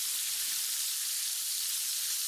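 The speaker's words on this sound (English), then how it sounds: "we've got the tenderloin frying up there" Wild turkey tenderloin frying in a pan gives off a steady, soft sizzle and hiss, faint and continuous with no voices over it.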